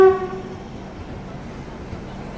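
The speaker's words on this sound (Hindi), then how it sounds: "सामने से WP5 के साथ किसी ट्रेन का अराइवल हो रहा है।" A train arrives hauled by a WP5 locomotive: a brief horn blast at the start gives way to a steady, moderately loud rolling rumble.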